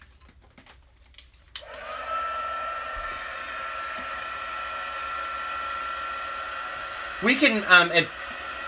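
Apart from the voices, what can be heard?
crafting heat tool drying wet shaker card pieces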